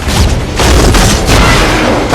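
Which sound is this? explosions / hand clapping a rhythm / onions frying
explosions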